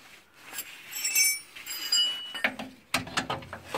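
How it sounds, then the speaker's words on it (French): A 16 mm wrench tightening the rear shock absorber nut on a Mercedes C180, giving a few quick metallic ratcheting clicks and clinks close by, sparse and short. "Donc là, on va le serrer. Tout simplement, donc avec du 16."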